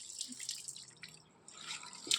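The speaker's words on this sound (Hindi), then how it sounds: "अब इसमें मैं पानी डाल देती" Water poured into a potted plant with completely dry soil gives light, scattered drips and trickles, fairly close and soft, with a brighter splash near the end.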